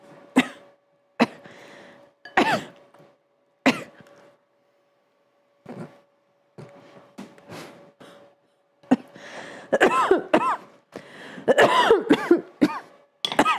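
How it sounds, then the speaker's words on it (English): A person coughs and clears their throat in a kitchen while making a chocolate soufflé, scattered single coughs early on giving way to louder, denser coughing fits toward the end, close to the mic with no other sound between. "I know I'm coughing all over this."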